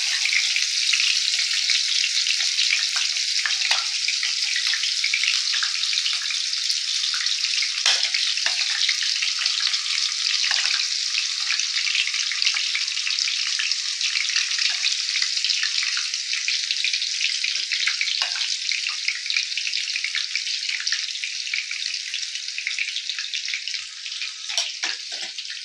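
A spiced egg and brinjal mixture fries in rings in a pan, making a bright, continuous crackling sizzle that stays close and even throughout with no other sounds.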